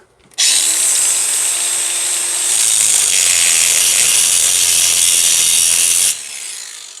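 A power drill bores a hole during a maintenance repair, giving a loud, steady whine that runs for about six seconds with a brief tone shift partway through, then stops abruptly; no one speaks.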